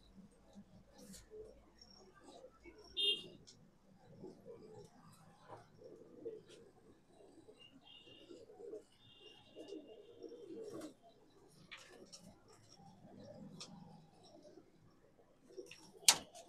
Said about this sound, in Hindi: इसके अंदर जो है मद्रासी कबूतर पड़े हैं सफेद सफेद चर्चे